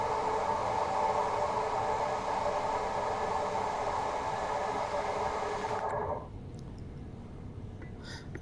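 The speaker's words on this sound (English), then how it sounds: "These little trains are nice to drive as well." A Class 377 electric train in Train Sim World 4 gives off a steady, broad cab rumble and whine that cuts off abruptly near the end, leaving quieter ambience.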